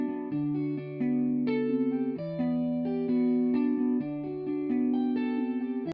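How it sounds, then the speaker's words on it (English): A dry guitar sample, played without effects in FL Studio for an emotional beat, sounds as sustained, overlapping melodic notes, moderately quiet and with no voices. "Without the effects, the guitar sounds like this."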